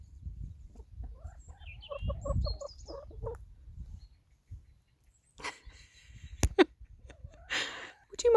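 Farm chickens cluck in a short burst of repeated calls, followed by scattered scratching and thumping noises nearby.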